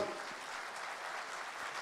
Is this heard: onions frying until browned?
no